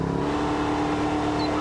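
A car engine revs in the BeamNG driving game on the Autobahn, a loud steady droning tone that holds at constant pitch with no pauses.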